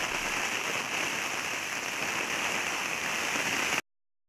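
Torrential rain during the Noto heavy-rain disaster pounds down in a dense, even roar of drops on surfaces, loud and unbroken, then cuts abruptly to silence near the end.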